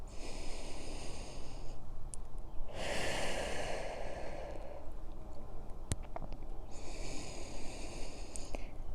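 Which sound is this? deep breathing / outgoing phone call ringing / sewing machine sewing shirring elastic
deep breathing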